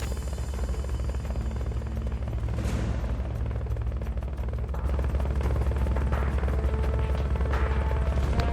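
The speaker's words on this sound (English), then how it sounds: "subject confirmed onboard helicopter." Helicopter in the video game Metal Gear Solid Peace Walker: a loud, steady rotor and engine drone that holds throughout, with a brief rumbling swell partway through and no speech.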